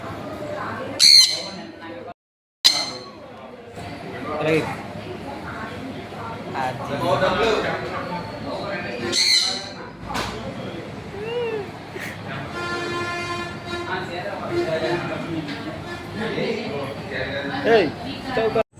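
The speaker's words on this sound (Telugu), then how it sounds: "ఈ షాప్లోకి ఎంటర్ అవగానే బర్డ్స్ సౌండ్స్ వస్తుంటాయి" Loud, piercing bird squawks burst out repeatedly amid a busy indoor din in a pet shop, with people talking nearby.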